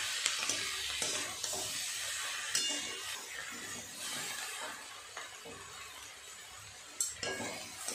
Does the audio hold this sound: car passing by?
no